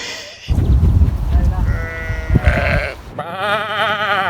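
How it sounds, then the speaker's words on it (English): Sheep bleating, several wavering cries following low murmuring voices, close and clear. "Sheep."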